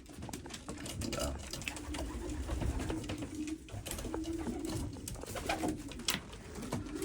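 Racing pigeon, a St. Joseph line bird from Germany, cooing softly in a loft amid steady background murmur, with a few low coos rising over continuous ambient noise.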